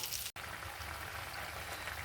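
Curry paste and water simmering in a pan, a soft, steady bubbling and hiss with a brief gap near the start.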